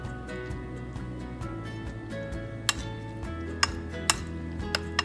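Chicken for chow mein is mixed with baking soda and a pinch of salt in a bowl, the utensil producing soft, steady stirring with a few sharp clinks against the dish, close by.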